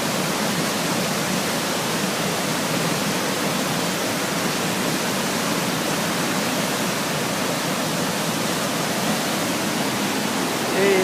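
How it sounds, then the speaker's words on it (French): A waterfall on the flooded Esteron river roars as a loud, constant, dense rush of water, unbroken and close throughout. "la cascade."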